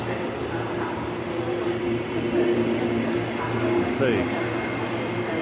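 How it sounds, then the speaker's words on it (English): A Gold Coast train arrives as a steady, low rumbling drone with a constant mechanical hum that swells slightly midway, and a voice speaks briefly over it. "So here comes the Gold Coast train."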